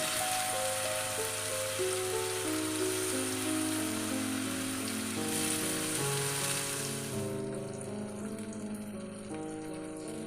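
Pineapple pieces fry in ghee or butter in a pan over a low to medium flame, making a steady soft sizzle under continuous background music.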